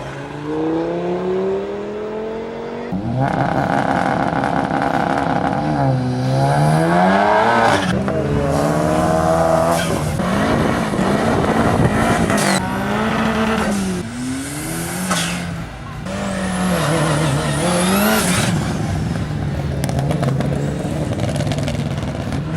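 A 2JZ-engined Lexus IS200 races at the Whiteline rally sprint, its engine revving hard and rising and falling through repeated gear changes and throttle blips, loud and close, with tire squeal between bursts.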